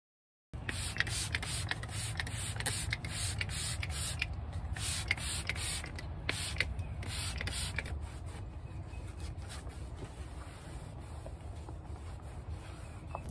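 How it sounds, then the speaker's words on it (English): A dresser surface is sprayed with a dollar-store cleaner and wiped down: quick hissing spray bursts and rubbing, squeaky wiping strokes, close and soft, with no talking. "started cleaning again with awesome cleaner from the dollar store"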